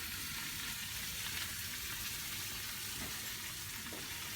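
Pork loin seasoned with soy sauce, olive oil and garlic powder searing in a pan, a dense, even sizzle that holds steady and close throughout, with no talk.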